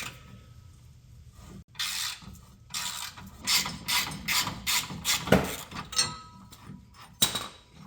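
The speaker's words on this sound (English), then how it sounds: "Step 9 is to remove the tow hooks by taking off the 2 bolts with a 15mm" A ratchet socket wrench with a 15mm socket loosening the tow hook bolts on a 2019-2023 Ford Ranger, rapid clicking pawl bursts repeating in short strokes, close and clear with faint metallic knocks.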